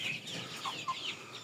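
Farm chickens clucking softly up close, a few short low clucks over a faint steady background, no talking.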